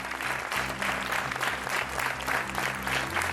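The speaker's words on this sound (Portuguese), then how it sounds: "As palmas continuam." A television game-show studio audience claps steadily and loudly throughout, a dense continuous applause with slight swells and no voices on top.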